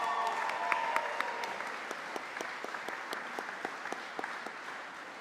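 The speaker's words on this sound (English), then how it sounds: "Let's give her a huge round of applause." Audience at a Rosenbach Bloomsday festival applauding a project manager, a steady wash of clapping with some louder individual claps standing out, moderately distant and sustained throughout.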